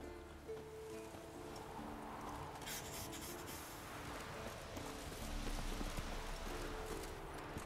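Horse hooves clip-clop in the video game Witcher 3, a faint but steady rhythmic trot of hoofbeats continuing throughout with no speech.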